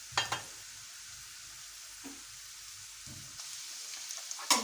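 Chicken boti kebabs fry over a medium-low flame with a steady, close sizzle, broken by a few soft clinks and stirring bumps.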